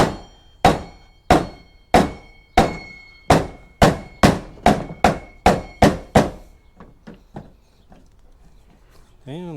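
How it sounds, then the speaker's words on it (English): A rubber mallet knocks cup holders into a tailgate panel on a Toyota Tundra, giving about a dozen evenly spaced, solid thunks in close succession that then turn into lighter, quicker taps. "I'm just kind of using the rubber mallet to put these into place so that it doesn't bend the cup"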